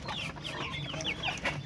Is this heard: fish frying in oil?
no